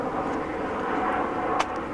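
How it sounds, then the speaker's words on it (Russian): Airplane flying near Haneda Airport by a bay in Chiba, Japan, a steady broad engine roar held at a constant level throughout, with no voices. "Самолеты летают"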